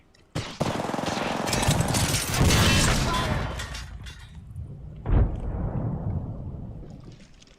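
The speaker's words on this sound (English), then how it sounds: "Grenade flung." A grenade explodes amid machine-gun fire in a video game: a sudden loud blast opens a long stretch of dense, rattling gunfire, then a second sharp burst rings out and decays into a fading tail.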